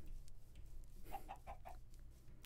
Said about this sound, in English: Get out of here, chicken!